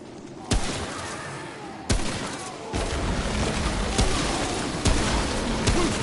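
Rifle fire in Remnant: From the Ashes, several loud, widely spaced single shots cracking over a steady roar of game ambience, with no talking.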